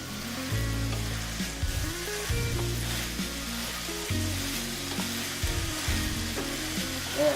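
Black beans are stirred into a hot sizzling pan for a Mexican lasagna, giving a continuous loud frying hiss with scraping stir strokes and a low hum underneath.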